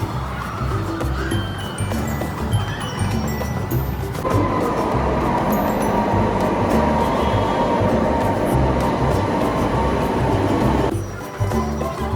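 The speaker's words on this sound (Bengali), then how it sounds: "এখন আমি চলে এসেছি মেট্রো স্টেশনে মেট্রো ধরবো" Low rumbling of a metro train at a station, with a steadier mechanical roar rising in the middle before easing off.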